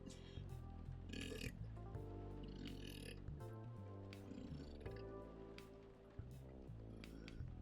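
A loud, drawn-out belch from a Coffee Talk video game character rumbles low over ambient café music, with several gurgling bursts across the stretch.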